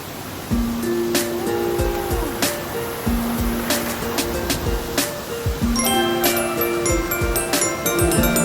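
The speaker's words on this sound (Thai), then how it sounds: "น้ำตกอุทยานทานโบก" Than Bok waterfall at Ao Luek, Krabi, pours as a steady roaring wash of water, loud and continuous, with sharp clicks and a few tonal tones over it and no talk.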